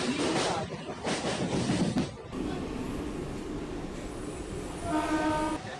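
A Mumbai local train at Dadar station during monsoon rain rumbles loudly past, with a clattering run of wheels early on, then a steadier roll and a tonal horn or whistle near the end.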